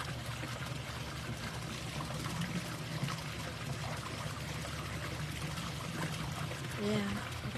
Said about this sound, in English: So it's coming down with a more thunderous stream.